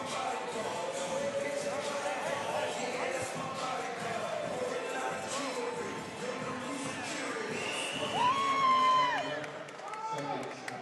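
Hometown crowd of over a thousand at a fight, cheering and whooping at moderate distance under a commentator's continuous talk, with a sharp whistle-like whoop late on.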